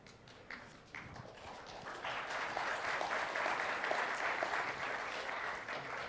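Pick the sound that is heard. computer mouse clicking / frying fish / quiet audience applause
quiet audience applause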